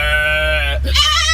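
A person imitates a sheep bleating: one long, wavering, nasal bleat that breaks off and returns as a shorter, higher bleat, close and fairly loud with no other sounds.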